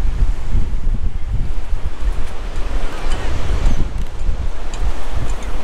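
Strong wind gusts buffet the microphone over the steady roar of surf breaking on a large beach at Aberaeron, Wales, loud and continuous throughout.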